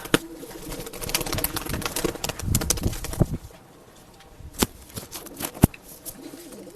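Pigeons cooing in a loft, soft repeated coos with scattered wing flaps and sharp clicks, close and fairly busy at first, then quieter.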